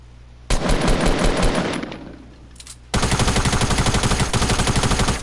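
Video game gunfire in two loud bursts: an opening stretch of rapid automatic fire that fades, then a second sustained burst of fast, evenly spaced shots after a brief gap.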